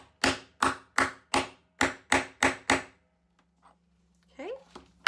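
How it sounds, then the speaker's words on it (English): Eight sharp metallic hammer strikes on a grommet setter, setting a grommet, land in a steady rhythm, close and loud, followed by quiet and a brief voice. "take the setter and I'm going to put that right like this. Okay, and then you are going to hammer it."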